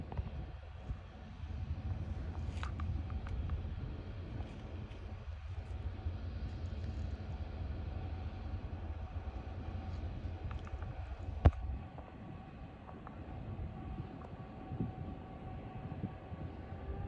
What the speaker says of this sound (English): Hear the rumble of his train now.